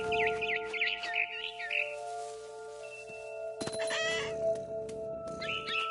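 Chirping of a barn swallow in a video game, a run of quick high twittering calls near the start and again at the end, over steady tonal game music with a brief burst of noisy clatter in the middle.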